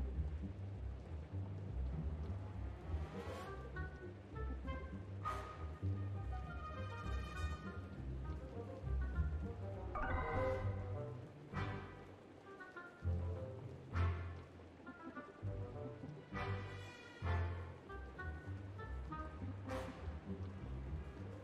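Steady rain with rolling thunder in the video game Distraint, a constant wash of rainfall broken by several deep rumbling thunder swells, with no voices over it.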